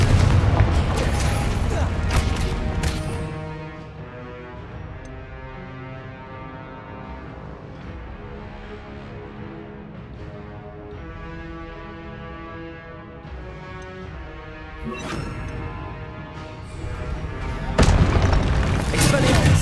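Fiery blast spells bursting in Hogwarts Legacy combat, loud booming explosions at the start and end with a sustained magical roar and tonal music between, voices shouting spell names over the action.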